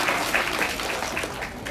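Enthusiastic crowd clapping at a primary school function in Juna Samadhiyala, a short burst of steady, close applause from many people.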